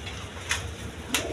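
Giribaz high-flying pigeons coo faintly in a quiet loft, with two short soft rustling bursts breaking the low murmuring.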